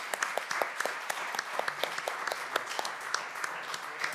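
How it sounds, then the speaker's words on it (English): An audience claps steadily, a fairly quiet round of applause with distinct individual claps scattered throughout. "So could you give her a round of applause?"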